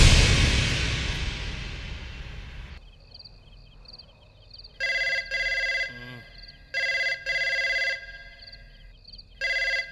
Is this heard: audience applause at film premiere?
no